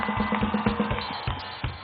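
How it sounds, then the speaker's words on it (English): An audience at the Mind Rocks 2015 event claps and cheers for Sidharth Malhotra, a dense, rhythmic burst of applause and crowd noise heard fairly close. "A big round of applause, people."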